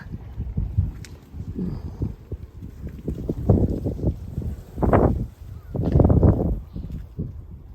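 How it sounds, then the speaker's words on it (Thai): Gusty wind blows outdoors in a home garden with a climbing rose bush being pruned, rumbling and buffeting the microphone in uneven surges. "ตอนนี้ก็ยังมีลมอยู่นะคะ"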